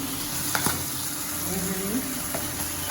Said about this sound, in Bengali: আমি মাছটা ভেজে নিই